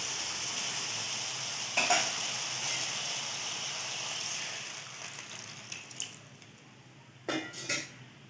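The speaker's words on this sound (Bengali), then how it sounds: "একটু নেড়ে চেড়ে এর মধ্যে একটু জল দিয়ে আমরা সেদ্ধ করতে দেবো" Ridge gourd being stirred in a pan before water is added, a steady low sizzle with a few scraping and clinking utensil strokes against the pan, moderately quiet with occasional louder bursts.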